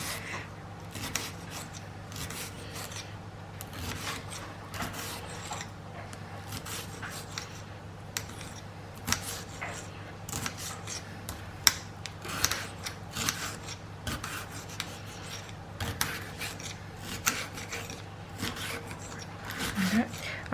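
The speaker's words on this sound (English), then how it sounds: "just going to cut that thinly into strips" Knife slicing a chili pepper into thin strips on a board while making Mexican-style beef loaded wedges, a run of soft, close scraping cuts over a steady low kitchen hum, with talk over them.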